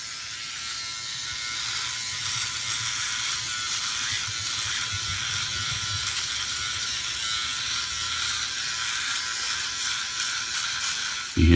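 A Philips OneBlade electric razor shaves steadily at close range, giving a continuous buzzing hum that holds for about eleven seconds with a brief louder knock at the end.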